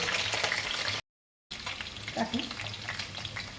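Potatoes for a mutton curry sizzle and crackle in hot oil in a pan, a steady dense frying hiss broken by a brief silent gap, with a faint stir or clatter afterward.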